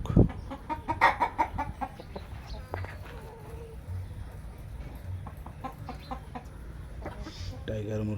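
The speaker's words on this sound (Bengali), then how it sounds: "টাইগার মুরগি, টাইগার মোরগ" Large Tiger breed chickens and roosters cluck and call on a farm, with bursts of overlapping clucks early on, then scattered calls against a constant low barnyard hum.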